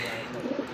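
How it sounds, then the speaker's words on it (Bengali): A pair of caged pigeons, one red and one white, gives a few soft, low coos against a steady background hum. "বন্ধুরা দেখতে পাচ্ছেন চমৎকার আরও এক জোড়া কবুতর দেখার মতো"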